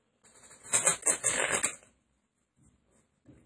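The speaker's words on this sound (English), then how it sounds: "I'm going to Zarrow shuffle it" Playing cards riffle through a Zarrow shuffle, a quick close crackling burst of about a second and a half, followed by near silence with faint handling.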